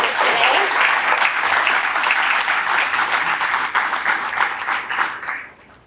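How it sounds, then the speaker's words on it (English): Loud, dense applause from the audience at the Fountain Valley State of the City 2022 event, sustained and even before fading out at the end. "Can we begin with a big round of applause for all of our restaurants who brought"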